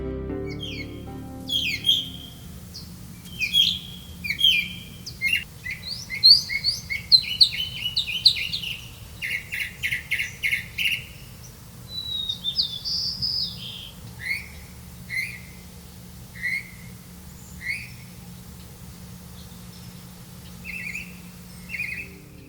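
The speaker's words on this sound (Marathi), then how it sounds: "विविध पक्ष्यांच्या आवाजाने आणि मधूनच येणाऱ्या लाटांच्या आवाज आवाजाने हा परिसर थक्क करून सोडतो" Several kinds of birds calling near the coast at Diveagar, with repeated chirps, whistled notes and trills in bursts over a low steady background rumble and occasional waves, fairly close and clear.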